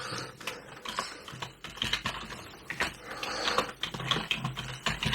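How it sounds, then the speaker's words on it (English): Rapid, uneven typing on a computer keyboard, close and fairly quiet, with clustered key clicks and brief pauses and no one speaking. "So let's just type in here."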